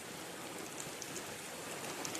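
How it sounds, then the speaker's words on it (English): Steady rain falls continuously as an even, dense hiss with soft pattering, alone and with no voices. "The rain's been falling steady since 9:45."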